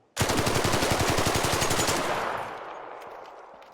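Automatic weapon firing in the video game Arc Raiders, a rapid close burst of about twenty evenly spaced shots lasting two seconds, then a fading reverberant tail.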